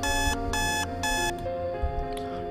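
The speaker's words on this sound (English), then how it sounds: "Turn off your iPhone alarms." An iPhone alarm rings in a house, loud repeated bursts of electronic tones in a steady rhythm that cut off partway, with room noise beneath.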